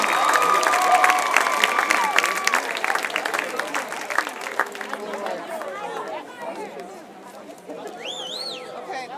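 Fans at a homecoming college football game applaud and cheer for award winners, crowd clapping and shouts strong at first, then thinning out as whistles and scattered voices carry over the stadium noise.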